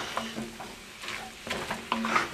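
A utensil stirs flour into melted butter in a pot for a chicken and dumplings roux, making quiet scraping and clinking strokes in irregular bursts over a faint sizzle.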